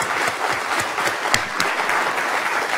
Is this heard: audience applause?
yes